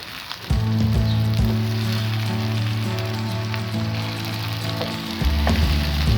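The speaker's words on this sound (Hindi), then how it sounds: "यहाँ अब हम इनकी करेंगे भुनाई।" Potato and eggplant pieces fry in oil in a pan for a home-style aloo baingan sabzi, giving a steady, fairly loud sizzle with occasional stirring scrapes, and no voices over it.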